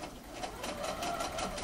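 Close, steady rapid whirring and ticking of a sewing machine edge stitching a patch pocket, running continuously at moderate volume with no speech.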